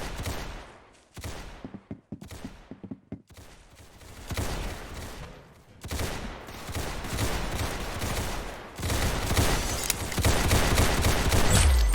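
Gunfire from a pistols match in a shooting game, with rapid bursts of overlapping shots that build from scattered cracks into a dense, loud, continuous fusillade, with no talk over it.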